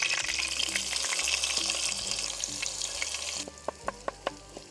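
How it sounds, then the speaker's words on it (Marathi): Roasted coconut and roasted onion paste goes into hot oil, bursting into a loud, dense sizzle that fades after a few seconds into quieter frying with several crisp clicks and scrapes close by. "तेल घेऊया हे भाजलेलं खोबरं आणि भाजलेलं कांद्याचं वाटण"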